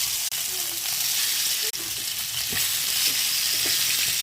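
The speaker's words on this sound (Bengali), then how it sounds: "মাছ ভাজি করব। তেল দিয়ে দিলাম মাছ।" Fish, including fish roe, fries in hot oil with a dense, loud, continuous sizzle filling the whole stretch, broken only by a couple of sharp clicks.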